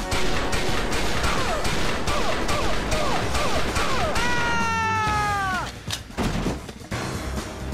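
Pistol gunshots sound in the video game XIII as a quick run of sharp, loud cracks over constant game noise, followed by a ringing tonal sweep and a few more bangs.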